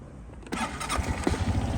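A 2017 Suzuki Address V125 scooter engine cranks and catches after a quiet moment, then runs on in a close, rough, throbbing idle with a few sharper pulses.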